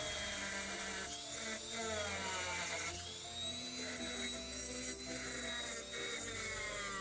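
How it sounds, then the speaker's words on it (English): A steady, high-pitched mechanical grinding whine runs throughout, with slight dips and surges in pitch as the tool grinds the edge of a mushroom post on a Matchbox diecast Dodge A100 flat. "take the edge off this mushroom post and grind it flat"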